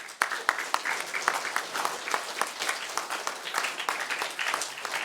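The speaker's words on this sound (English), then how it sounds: "Thanks, Andy. Round of applause." A small group in a church claps for a speaker, a moderately close round of applause with distinct individual claps in an uneven rhythm that holds steady throughout.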